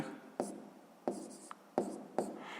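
Pen strokes scratching across paper while a math exercise is worked out, four short separate bursts of writing with brief pauses between them, close and fairly quiet.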